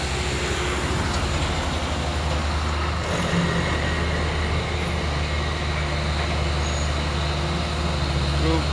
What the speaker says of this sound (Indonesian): Truk Kuso coklat.